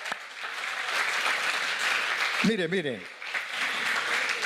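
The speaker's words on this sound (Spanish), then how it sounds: "Dale palmas al Señor, hermano." A church congregation claps for the Lord in sustained, dense applause, with a voice briefly speaking over it midway.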